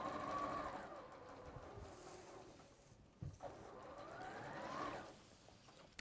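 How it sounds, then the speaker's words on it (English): An Elna 550 sewing machine stitches in long whirring runs, its motor pitch rising and falling as it speeds up and slows, pausing briefly midway before starting again, close and clear. "Of course, Suzie's using the 505 Elna 505 sewing machine."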